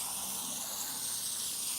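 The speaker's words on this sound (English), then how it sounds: "hope that the sound of my water hose is not too loud" Garden water hose spraying steadily, a continuous close hiss of water with no breaks, loud and alone.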